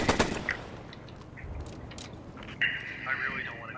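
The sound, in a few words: gunfire in the video game Post Scriptum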